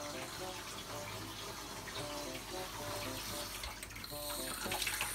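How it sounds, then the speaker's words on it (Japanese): Dishes are washed by hand in a home kitchen sink under a steady, close rush of running tap water, with faint clinks of dishware and no talking. "洗い物をやっております"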